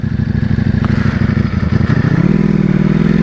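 A 2021 Ducati Panigale V4S on its standard exhaust rumbles loud and close, a dense steady engine note that rises in pitch partway through as it revs up.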